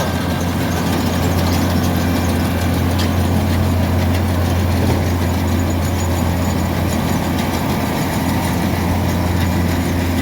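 A small farm tractor engine runs steadily in a rice field with a low, droning hum and a constant chugging rumble that continues without a break.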